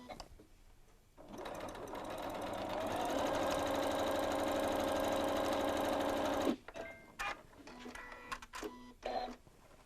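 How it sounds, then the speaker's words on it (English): A Janome sewing machine runs a stocking seam on its free arm, starting after a quiet moment and humming steadily and close for about five seconds, then stopping abruptly into light clicks and handling noises. "expose the free arm to make this really easy to just sew all the way around with a 1/2 inch seam allowance"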